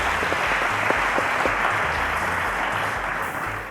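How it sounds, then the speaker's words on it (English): A studio audience claps for a contestant on a televised maths quiz show, a thick, even roar of many hands close and loud, holding steady for a few seconds with no one speaking. "A round of applause to Akinloluwa, guys."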